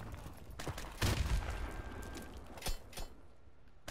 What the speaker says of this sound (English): I let go of that grenade at the last possible second. It left my hand and exploded pretty much.